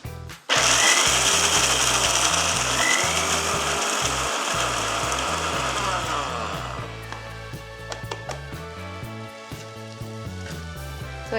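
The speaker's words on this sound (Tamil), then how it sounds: "அதை மிக்சியில் போட்டுக்கலாம்" Loud high-pitched whirring of a kitchen mixer grinder pulverising roasted peanuts into powder, starting abruptly, running steadily for about six seconds, then winding down into rattling and knocking as the jar settles.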